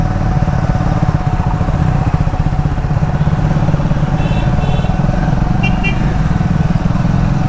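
A Triumph Speed 400 motorcycle is ridden through city traffic, its engine giving a loud, constant drone mixed with wind rush, while short horn beeps from nearby vehicles sound near the end.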